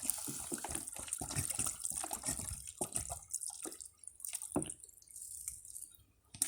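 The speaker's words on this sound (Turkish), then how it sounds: "Şu anda depomuz dolmak üzere arkadaşlar." Water pours and splashes into a tank, irregular gurgling and dripping bursts heard close and fairly faint, with no talk.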